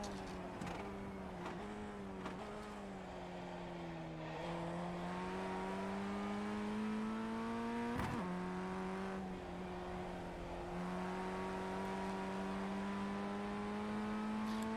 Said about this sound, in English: This car is so much fun to drive.